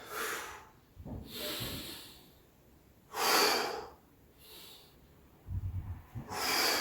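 Deep, forceful breaths in and out through the nose during a dumbbell workout, heard up close as rhythmic hissing inhales and exhales in repeated pairs, with a few soft thuds of movement between them.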